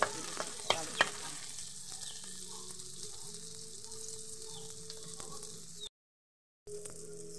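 Egg and tomato frying and being stirred in a pan for a kangkong dish, a few sharp utensil knocks at the start, then a steady quiet sizzle, broken by a brief silent gap near the end.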